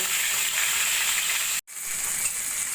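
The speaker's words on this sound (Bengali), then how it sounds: "এবার তেলে আমি তেলাপিয়া মাছ দুটো ভেজে নেব" Two salted, turmeric-rubbed tilapia fish frying in hot oil, a dense, steady sizzle up close with a brief dropout partway through.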